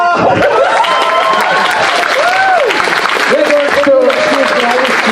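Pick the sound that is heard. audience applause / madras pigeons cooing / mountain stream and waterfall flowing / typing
audience applause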